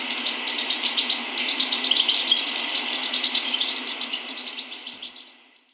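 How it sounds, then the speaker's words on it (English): A small flock of garden birds in Hampshire twitters in rapid, overlapping high chirps, fairly close and lively, then fades away over the last second as the birds move off. "they are easily spooked and will fly off together in a small flock, twittering as they go"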